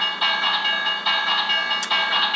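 A ToQChanger toy train transformation device from Ressha Sentai ToQger plays an electronic effect, a bright, buzzy tone pulsing in repeated bursts like a crossing signal, with a short high chirp near the end, loud and close.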